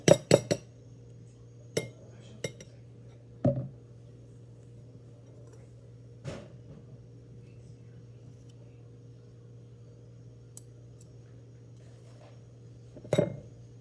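A spoon scrapes and clinks against a bowl holding a Nutella and M&M's mixture, with a handful of sharp metallic taps spread across a quiet, low room hum and long gaps of near-silence between them.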